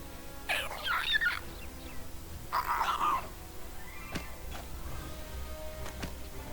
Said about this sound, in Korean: 마녀의 앵무새가 나타났다